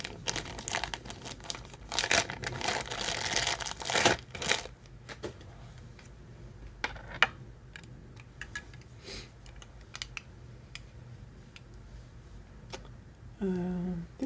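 A small plastic bag from a wellness subscription box crinkles and rustles as it is opened, a dense crackling burst up close that thins into sporadic faint crinkles before a brief voice.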